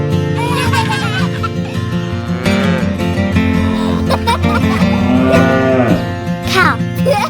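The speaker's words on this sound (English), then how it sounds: "Cow." Cattle mooing on a farm, long drawn-out lowing calls repeated over about seven seconds, loud and close, with a sustained harmonic bellow and no talking.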